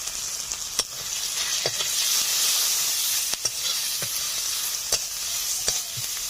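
A ginger-garlic spice paste with chilli paste, salt, turmeric and chili powder sizzles steadily as it is stir-fried for a village-style ritha fish curry, with sharp clicks of the spoon scraping the pan.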